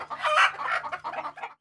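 Chickens at a poultry farm in Mali cluck busily and close by in a dense, overlapping run of short calls over a faint steady hum.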